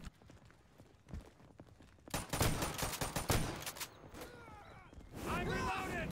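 Gunfire crackles in a multiplayer shooter video game set on a town map, bursts of shots coming loudly in clusters over the last four seconds, mixed with game noise and chatter.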